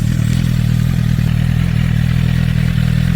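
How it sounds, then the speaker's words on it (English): A warm Suzuki GSX-R motorcycle engine idles steadily after being started, a loud, continuous low rumble with mechanical clatter throughout and no talking. "That's how the bike sounds."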